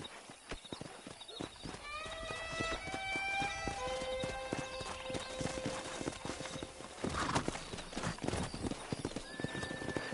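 Horses in a western video game clip-clop at a trot, with a rhythmic hoof patter running throughout and a long whinny rising and falling in the middle, fairly faint overall.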